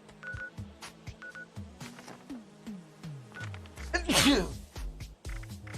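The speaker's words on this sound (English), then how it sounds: "I sneezed." A single sharp sneeze bursts out near the end, loud and close, over the busy sounds of a Fallout 76 online game session with electronic beeps and tones.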